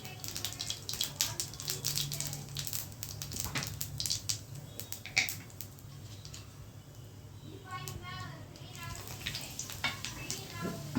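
Hot oil sizzling with red chillies and curry leaves frying in it for tempering, a steady crackling hiss, with faint talk in the background.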